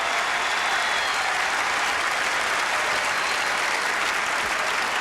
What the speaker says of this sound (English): Relatively subdued applause there